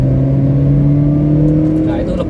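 A 2015 Honda Brio prototype with a 1200 cc engine and torque-converter automatic accelerates on kick-down, its engine droning steadily and loudly from inside the cabin, rising slightly in pitch, with someone talking over it.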